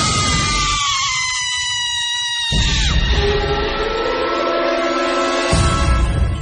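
A shrill scream sound effect in a Hindi horror story, loud and drawn out, with several piercing overlapping wails that waver and shift in pitch over a booming low rumble, sustained throughout.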